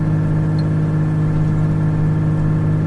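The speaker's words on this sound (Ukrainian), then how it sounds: "Чути, як двигун працює, гальмує двигуном, з гірки так потужно гальмує." A steady, loud car engine drone with a low, constant hum, the motor holding a sustained note while engine braking downhill, no voices.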